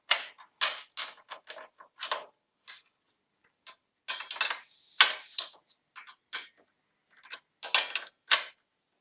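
A torque wrench ratchets and clicks in short, close bursts while a rear shock absorber bolt on a Royal Enfield motorcycle is tightened, the sharp mechanical clicking broken by brief pauses.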